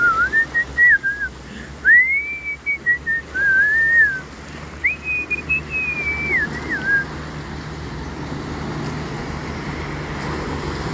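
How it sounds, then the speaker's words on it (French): A person whistles a few short, rising and falling melodic phrases, close and clear, over steady roadway traffic noise that continues after the whistling stops. "Il sifflote un peu."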